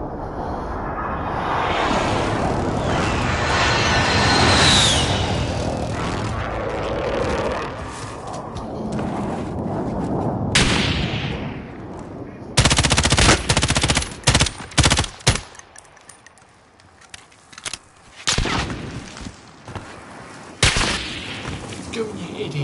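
An airstrike pounds the ground in Warzone with heavy rolling explosions, followed by sharp bursts of automatic gunfire and scattered single shots, loud and close, with a voice speaking over the action.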